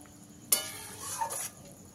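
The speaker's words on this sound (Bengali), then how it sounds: "এবারে এর মধ্যে দিয়ে দিতে হবে ভেজে রাখা ঢ্যাঁড়সগুলো।" Fried okra dropped into boiling vegetarian gravy in a pan, a sudden splash followed by a brief soft sizzling hiss, close but fairly quiet, then settling back to a faint simmer.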